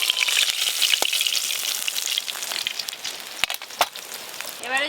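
Katla fish pieces frying in hot oil, a loud continuous bubbling sizzle close by, with a few sharp clicks and taps from the pan.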